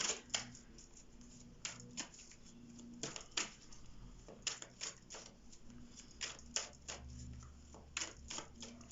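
Tarot cards being shuffled by hand, faint and close, with irregular crisp riffling taps and flicks of card stock repeating throughout.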